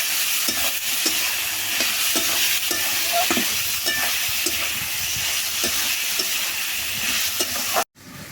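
Chopped tomatoes fry in a pan with a steady close sizzle, while a spoon stirs and scrapes at regular intervals before the sound cuts off abruptly.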